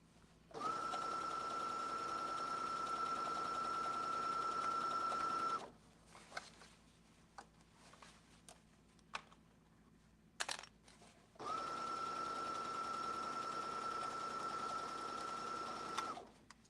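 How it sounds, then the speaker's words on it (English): A sewing machine runs steadily while stitching around a large oval fabric opening. It makes two long whirring bursts close by with a quiet pause between them and no talking. "what we're going to do now is sew the entire opening"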